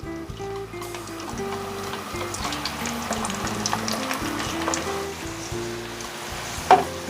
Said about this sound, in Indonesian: Selanjutnya bawang putihnya saya goreng utuh ya. Digoreng sampai matang, sampai kecoklatan.